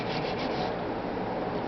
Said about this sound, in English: I'm going to take my sanding stick